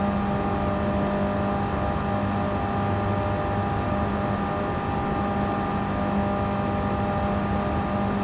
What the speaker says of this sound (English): just like this classic Mini I'm driving